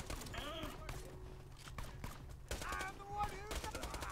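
Gunfire in the shooter game Borderlands 2, bursts of rapid shots mixed with game effects under overlapping talk and game voices, loud then quieter in uneven clusters.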